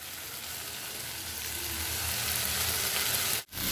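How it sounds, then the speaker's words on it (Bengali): Curry with small mourala fish sizzles steadily in oil over low heat, a continuous close hiss with a soft stirring scrape as it is turned over, briefly cut off near the end. "তরকারিটা এপাশ ওপাশ করে দিলাম, আর 5 মিনিটের মতো কম আঁচে হতে থাক।"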